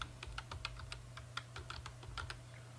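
Someone types a password on a computer keyboard with quick, irregular clicks, close and clear, over a steady low hum.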